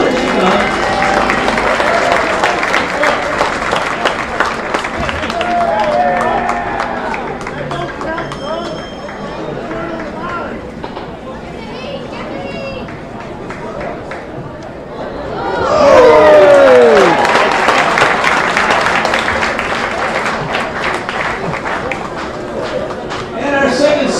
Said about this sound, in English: Let's give Evelyn a big round of applause